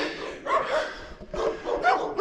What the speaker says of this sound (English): now the dogs are barking at me